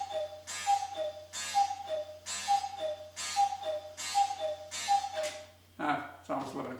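Cuckoo clock striking near 11 o'clock indoors, a steady series of repeated two-note calls with soft ticking, several strikes evenly spaced and fairly close, then a voice briefly at the end.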